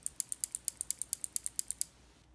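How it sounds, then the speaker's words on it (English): Crisp, evenly paced clicks from Kailh Box White clicky switches on an Anne Pro mechanical keyboard, about fifteen sharp keystrokes close to the mic, alone in a quiet room before stopping. "here is a Kale Box White, my personal favorite. It's got the little click bar in there."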